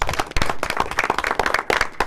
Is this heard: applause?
yes